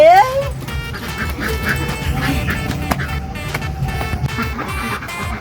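Ducks quack loudly and almost continuously up close, their nasal calls overlapping against a busy background hum.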